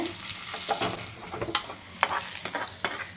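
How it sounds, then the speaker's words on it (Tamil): Small onions sizzle in hot oil while being stirred, a steady crackling fry with scattered louder pops and scraping, close and without talk. "எண்ணெய் சூடாயிடுச்சு நம்ம சின்ன வெங்காயம் போட்டுடுறோம்"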